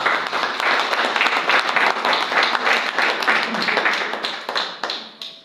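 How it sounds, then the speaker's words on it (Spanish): Church congregation giving loud, dense applause, many hands clapping steadily close by before tapering off at the end. "Alguien que da un aplauso a Dios."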